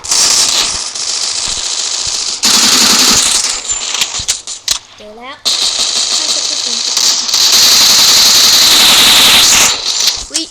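Gunfire in a 4v4 shooting video game rattles out in loud rapid bursts and single shots, with voices talking over and between the shots.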